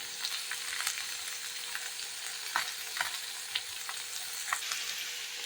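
Soybeans fry in a pan with salt and chili while being stirred, a quiet steady sizzle broken by occasional scraping clicks of the spoon.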